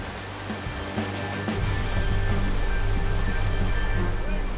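Powerful rushing water surges over a tired swimmer in extreme conditions, a dense roaring wash that grows louder and fuller after the first second and keeps on steadily. A voice can be heard faintly under it.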